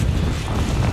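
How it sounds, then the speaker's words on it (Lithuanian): Wind buffets the microphone at a wakepark in Rokiškis, a steady low rumbling roar filling the whole second with no voices. "O čia vėjas"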